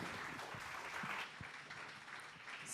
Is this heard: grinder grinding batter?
no